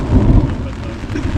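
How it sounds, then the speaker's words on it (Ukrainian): Thunderstorm over a lake during boat fishing among lily pads, with a loud, deep rolling rumble of thunder and dense rain noise filling the short stretch. "Блискавка тут б'є."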